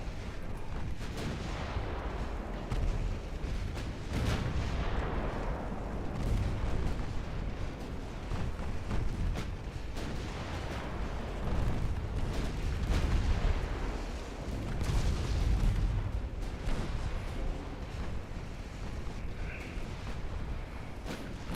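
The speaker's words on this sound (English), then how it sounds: "Those 10-inch guns are no joke" Ten-inch naval guns fire in a warship battle in Ultimate Admiral Dreadnoughts, heavy booming salvos and blasts piling up continuously at loud volume, with dense rumbling layered through the whole stretch and no talking.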